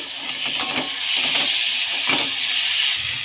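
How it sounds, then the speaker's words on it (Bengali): Fried prawns tipped into a pan of potato and ridge gourd for a Bengali prawn curry, giving a steady close sizzle and hiss with a few soft clinks and scrapes, no voices. "ভেজে রাখা চিংড়ি মাছগুলো এবার দিয়ে দিচ্ছি"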